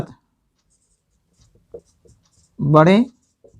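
Chalk or marker writing on a board during a Hindi-language class 10 maths lesson on circle areas, with a few brief scratchy strokes and one longer stroke, close and clear.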